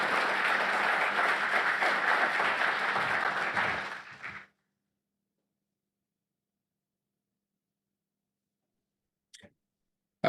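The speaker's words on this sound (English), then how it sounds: "Ladies and gentlemen, by applause, could you welcome our Prime Minister of the Federation, Dr. Jew." An audience at the opening ceremony of a credit union summit applauds to welcome the Prime Minister, with sustained, dense clapping for about four seconds before it fades abruptly into silence.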